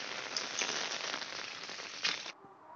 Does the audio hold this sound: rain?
yes